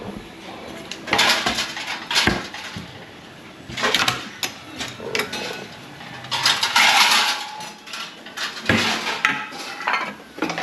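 Plates and cutlery clinking and clattering in a home kitchen while breakfast is set out, in several bursts of handling, with people chatting in between.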